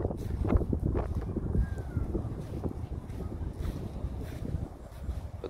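Gusty wind outdoors in a park rumbles steadily across the microphone as low buffeting noise, loud and continuous, easing slightly toward the end.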